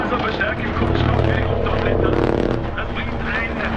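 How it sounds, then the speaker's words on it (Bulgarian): Red Bull display aircraft fly an air show over the Red Bull Ring in Spielberg during the Austrian Grand Prix, their engines a continuous droning roar that swells and fades under someone talking. "Очакваме Red Bull самолетите да правят някакви чудеса във въздуха."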